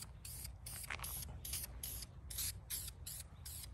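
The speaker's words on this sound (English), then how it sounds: "the pump got a nice cleaning and just getting a fresh coat of paint" Short bursts of aerosol spray paint, Alpine green or close to it, coat a freshly cleaned metal pump, hissing in repeated bursts of about a quarter second each, close and steady.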